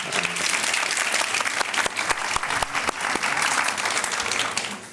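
An audience at a festival talk breaks into warm applause for the translator, dense clapping from a large crowd with a few sharper nearby claps standing out, steady and sustained before easing slightly at the end.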